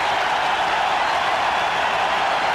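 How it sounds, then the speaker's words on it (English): A huge crowd roars loudly and continuously at an India versus Pakistan cricket match, a dense, unbroken wall of cheering with no single voices standing out. "Listen to that crowd now."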